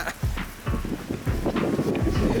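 Wind blows steadily outdoors during a surfskate race, a broad rumbling buffet across the microphone with low thumps from the boards, fairly loud throughout.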